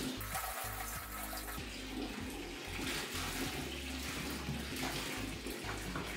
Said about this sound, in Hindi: पानी थ्रो करने पे ही जो साफ हो रहा है वो हो रहा है